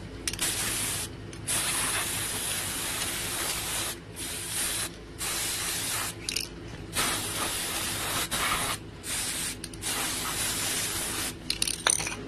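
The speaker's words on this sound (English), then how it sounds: "We're going to spray paint the picture frame. And I'm going to do that now" Spray paint hissing from an aerosol can onto a picture frame, in a series of long steady bursts broken by short pauses, close and fairly loud with no talking.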